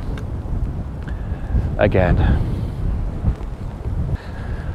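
Strong gusty wind on a wet day buffets the microphone with a steady low rumble, while a person speaks briefly in the middle.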